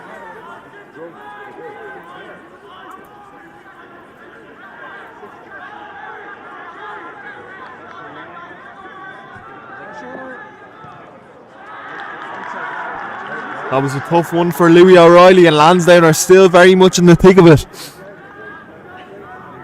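At an All-Ireland League rugby match between Trinity and Lansdowne, the crowd's murmur swells into loud cheering and shouting that peaks for a few seconds and then cuts off, with a commentator talking throughout.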